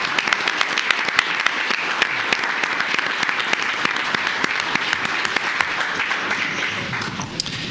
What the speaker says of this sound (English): let's give another big round of applause for all the participants